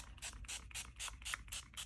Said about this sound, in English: So I'm just gonna go ahead and spray.